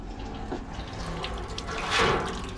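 Coolant water drains from the cooling system of a 1987 Chevrolet Suburban into a pan, a continuous close splashing pour that swells briefly louder near the end, with no voices.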